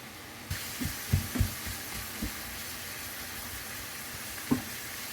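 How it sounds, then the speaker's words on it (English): Peppers and onions sizzle softly in a pan, a faint hiss broken by a few dull knocks and taps of a utensil. "It's starting to sizzle."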